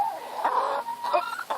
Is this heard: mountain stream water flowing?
no